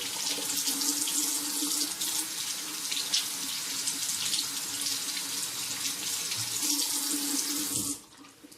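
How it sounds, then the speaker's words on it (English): Hot water runs steadily from a tap to rinse a Rockwell 6c razor, a close, continuous hiss and splash that cuts off abruptly near the end, with no voices. "you probably have to rinse with hot water to break it down a little better"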